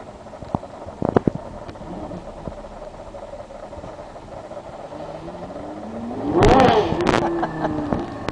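Gemballa Mirage GT accelerating on a road ride near Monte Carlo, engine note rising into a strong revving surge midway through, heard from inside the car with a few clicks and knocks beforehand.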